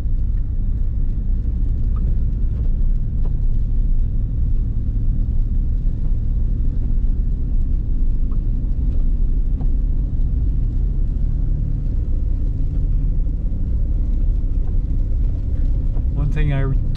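A Cadillac Escalade climbs a snowy winter hill, its engine and tyres making a steady, loud rumble throughout, with a brief sharper noise near the end.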